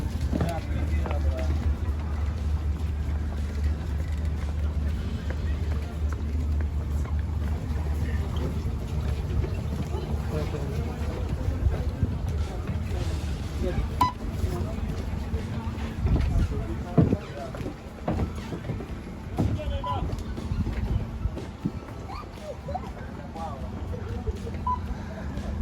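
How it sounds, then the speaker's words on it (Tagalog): Boat ride across the water toward Creek Harbor in Dubai, a steady low engine rumble and water wash running throughout, with people talking over it and a few louder knocks midway. "nandito na kami sa bangka papuntang Creek Harbor"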